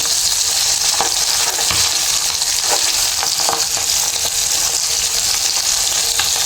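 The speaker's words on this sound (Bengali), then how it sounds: "এই পাবদা মাছটা ভাজতে কিন্তু খুব বেশি একটা সময় লাগে না" Pabda fish fry in a pan of oil with a loud, steady, close sizzle and crackle. Occasional soft knocks and scrapes come through as the pieces are moved around.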